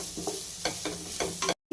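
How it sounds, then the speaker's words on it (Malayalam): Green chillies and vegetables sautéing in a pan for prawn fried rice make a close, continuous sizzle broken by repeated scraping stirs, then a brief silence before the frying resumes. "ഈ 3 ഐറ്റം കൂടി നമുക്ക് ഇട്ട് ഒന്നുകൂടി ഒന്ന് വഴറ്റിയെടുക്കാം."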